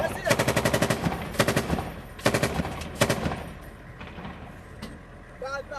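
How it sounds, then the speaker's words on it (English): Bursts of automatic gunfire rattle in rapid strings during the battle for Mosul, separated by short pauses, with a few single shots and distant rumble between. "And a lot of gunfire."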